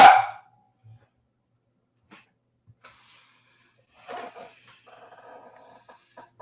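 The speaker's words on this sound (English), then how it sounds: "my dog is being obnoxious." A pet dog gives one sharp close bark at night, followed by quiet stretches, soft snorts and breathing, with a few faint scattered sounds later.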